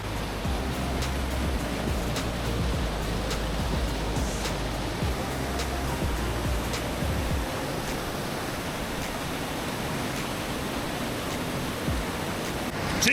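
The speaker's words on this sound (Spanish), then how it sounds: "hemos llegado a un punto en donde tenemos esta cascada" Steady rushing of a waterfall on a wet, slippery jungle trek toward the Cascada de los Vientos, a broad continuous roar with a deep low rumble that fades slightly midway, with no voices.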